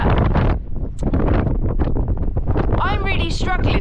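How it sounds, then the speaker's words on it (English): Strong wind on a mountain summit in Snowdonia in bad weather, loud continuous gusting and microphone buffeting that almost buries a person talking close to the microphone. "I know it's windy and you probably can't hear me"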